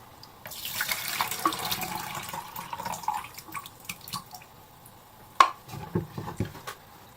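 Photographic stop bath pours back into a beaker during black and white film developing, a faint, steady trickling splash that runs for several seconds, with one sharp glassy clink partway through.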